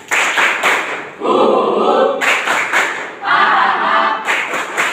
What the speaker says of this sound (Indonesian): Kita mulai dengan tepuk semangat.